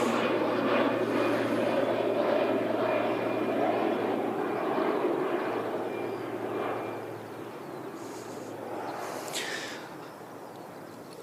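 A Life Flight air ambulance plane arriving at Christchurch Airport makes a steady engine drone with a thin whine, loud at first and then slowly fading as it moves away, with a couple of brief clicks near the end.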